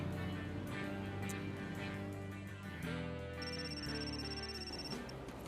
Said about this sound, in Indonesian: Itu handphone kamu ya selalu bunyi di saat yang nggak tepat tau gak?